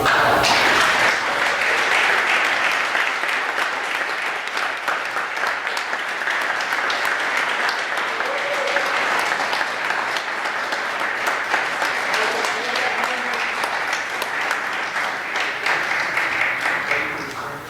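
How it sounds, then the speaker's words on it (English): A community day audience applauds continuously for well over fifteen seconds, a dense, loud wash of clapping that holds steady before easing slightly at the end. "Okay, now let's give a round of applause."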